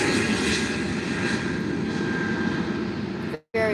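A steady, loud roar of a jet aircraft engine close by at Faro Airport, continuous and broadband, cutting out abruptly near the end.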